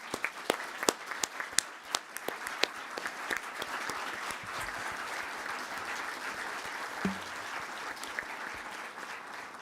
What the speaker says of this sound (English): Please all stand up and let's give them an applause